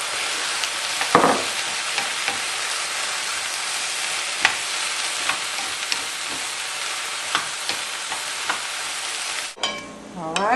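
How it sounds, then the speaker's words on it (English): Tomatoes hitting a hot pan and sizzling steadily as they are stirred, a broad continuous fry hiss with occasional scrape and clack accents, close and fairly loud, with no talking. "Now I'm going to add my tomatoes."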